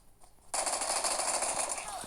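After a brief quiet moment, rapid bursts of video game gunfire erupt and continue loudly, with the sharp, steady crackle of automatic weapons.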